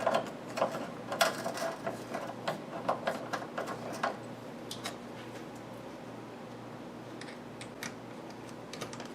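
Quick clicking of a tool tightening a fastener on a Ford Mustang radiator fan, a run of light ratcheting ticks over the first few seconds that fades into quiet room hum.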